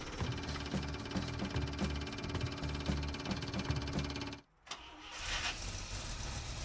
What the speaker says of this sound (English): what follows here is a bit of trial and error to get the truck running and idling reliably